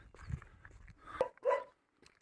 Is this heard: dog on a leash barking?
yes